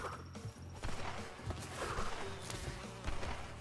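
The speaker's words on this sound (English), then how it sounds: "Alright, so we got killer bees." Killer bees in the Crash Bandicoot N. Sane Trilogy video game give off a continuous insect-like buzz over busy game effects and music, with no talking.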